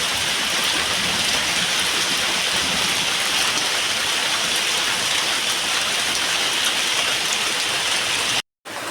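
Steady rain falls in a constant, even hiss of drops on surfaces, heard from a home veranda, close and moderately loud, cut off briefly near the end.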